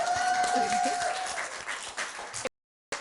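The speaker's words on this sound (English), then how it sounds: "Let's give them a huge round of applause." An audience at an education advisory board meeting applauds teachers who remain standing, with dense, steady clapping and a few faint voices. The applause carries on until it cuts out suddenly near the end.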